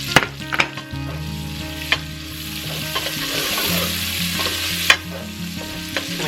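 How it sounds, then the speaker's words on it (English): Onion fries in a pan with a loud, close, continuous sizzle, punctuated by a few sharp clicks and stirring knocks over a steady low hum. "we're just going to fry this up until it's done"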